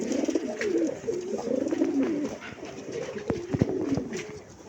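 A pair of Kaldom pigeons coo nearby in soft, rolling, repeated calls that run steadily through the whole stretch, with small clicks and rustles mixed in.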